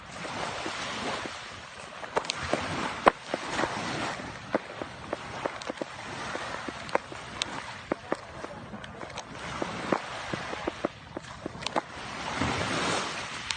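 Steady rushing of ocean surf mixed with gusty wind buffeting the microphone at a fish port in Romblon, Philippines, with scattered knocks and splashes throughout.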